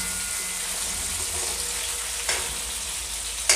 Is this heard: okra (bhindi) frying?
yes